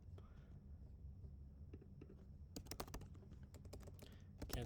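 Rapid computer keyboard typing starts partway through as a dense run of crisp close clicks, after a quieter stretch with faint murmured speech.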